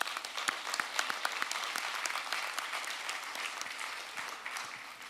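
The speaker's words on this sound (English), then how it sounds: "Yes, do applaud that. I think it's worth applause." Crowd applause during a political speech, fairly distant and moderate in volume, a steady patter of many hands with a few sharper claps standing out.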